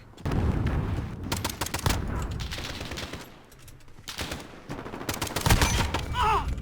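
Gunfire from an M19 pistol in Call of Duty: Modern Warfare cracks out in rapid clustered bursts, loud and close, separated by short pauses with scattered in-game noise.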